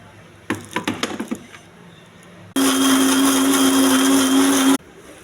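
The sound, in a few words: blender grinding coconut, roasted peanuts and tomato into paste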